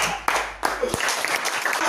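A church congregation applauding, a dense wash of clapping that swells after a couple of sharp onsets and carries steadily through the moment, fairly loud and close, with some voices mixed in.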